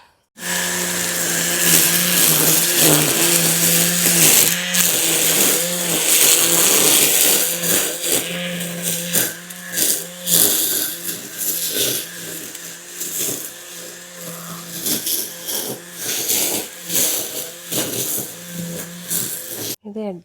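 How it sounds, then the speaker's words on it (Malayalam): A petrol brush cutter trimming grass outdoors on a sunny day, its engine whining steadily and loud, then wavering and pulsing as the blade works through the growth. "കട്ടർ എന്ന് പറഞ്ഞൊരു മെഷീനാണ് കേട്ടോ"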